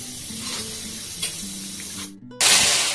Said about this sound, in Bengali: এটা এখন একটু ফুটিয়ে, মানে বেশ ভালো মতো ফুটে একটু শুকিয়ে যাবে